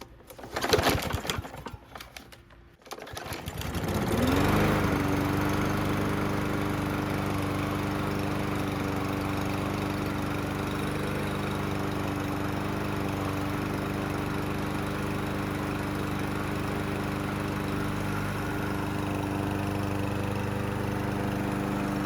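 Troy-Bilt TB200 lawn mower after a carburetor cleaning, a couple of rough pull-cord yanks before the engine catches and settles into a loud, steady running drone close by.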